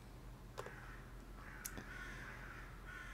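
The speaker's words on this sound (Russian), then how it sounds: "Вороны каркают." Crows caw outdoors in the early morning, two or three harsh calls at a moderate distance over a steady low hum, with no talk.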